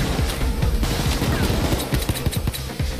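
Heavy sustained gunfire in the heist game Payday 2, many rapid overlapping shots and bursts forming a loud continuous barrage for three seconds, with booming low thuds mixed into the rattle.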